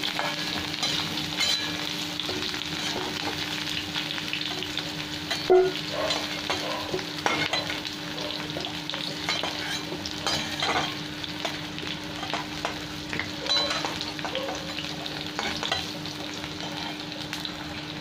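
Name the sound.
cauliflower and potatoes frying in oil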